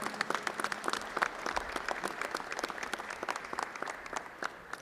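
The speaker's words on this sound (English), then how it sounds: "Give them a nice round of applause." Applause for young Grange members at a Pennsylvania State Grange 150th anniversary celebration in the Capitol: steady, moderately distant clapping from a gathered audience, sustained without a break for about five seconds.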